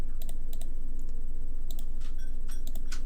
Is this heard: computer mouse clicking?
yes